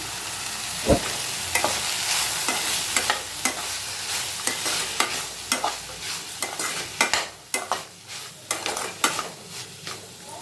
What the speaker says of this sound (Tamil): இப்போ இந்த காய் இந்த நெய்யிலேயே ஒரு அரை வேக்காடு வெந்துடணும்.